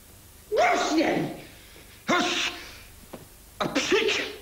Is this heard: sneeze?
yes